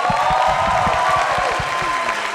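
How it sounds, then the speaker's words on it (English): Loud audience applause for the backstage crew at a Chinese New Year student showcase, dense clapping mixed with crowd cheering and a few raised voices, close and continuous. "can we get a round of applause for Backstage?"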